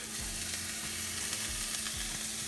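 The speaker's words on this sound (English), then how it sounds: "Okay, now to this I'm going to add half my meat." Minced keema meat sizzling and frying in a pan without oil while being stirred, a steady close crackle with periodic scraping pushes of the spoon.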